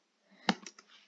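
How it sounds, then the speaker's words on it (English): Faint, quick clicks of a computer keyboard as a username is typed, one sharper keystroke followed by a few lighter taps in a quiet room. "Now type in your username."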